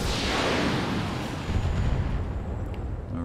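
Mech weapons in BattleTech firing on a radar antenna, a heavy booming blast that rolls into a long, decaying rumble, loud and close at the start and fading out.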